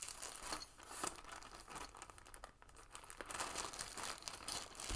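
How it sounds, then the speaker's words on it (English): Plastic Ziploc bag and model kit parts crinkle and rustle faintly up close in irregular bursts, with soft handling noise throughout. "I'll shove that in this Ziploc bag."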